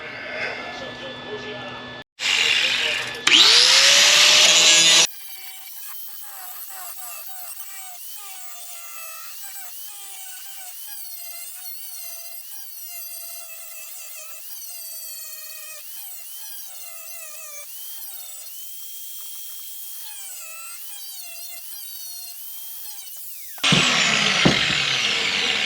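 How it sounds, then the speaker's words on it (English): Grinding down a weld on a car footwell floor panel gives short, loud, harsh bursts near the start and again at the end, with a long stretch of talking in between. "So we will grind that down and hope that the weld's stuck."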